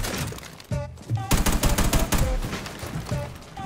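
Automatic gunfire in Rainbow Six Siege, dense bursts of rapid shots over several seconds, loud and continuous with short gaps, plus faint game noises.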